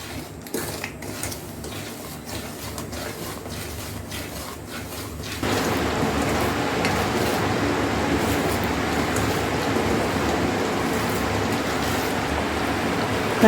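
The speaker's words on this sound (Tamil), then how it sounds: "இது மாதிரி நல்லா கொதிக்கணும்" A steady, dense bubbling hiss of sugar syrup with lime juice boiling hard in a pan, starting with a few clinks and growing louder partway through, then continuing evenly.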